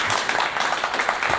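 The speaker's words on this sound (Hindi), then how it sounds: "एक बार जोरदार तालियां हो जाए दिलीप कुमार के लिए" Audience applause for singer Dilip Kumar on the Voice of Kullu singing competition show: a steady, dense wash of clapping that fills the short moment at a fairly loud level, with no talk over it.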